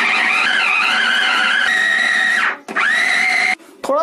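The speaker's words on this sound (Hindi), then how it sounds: "इन सब चीजों को हम अच्छी तरह से पीस लेंगे" Mixer grinder blending minced fish, roasted gram flour and egg, a loud, close, high-pitched motor whine that runs steadily, cuts out briefly, restarts, then stops again near the end with no talking.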